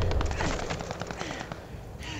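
Rapid MP-40 submachine gun bursts in Call of Duty: Vanguard, fired in a multiplayer match on the Dos House map, as a dense stream of close, loud shots across the whole stretch with brief gaps.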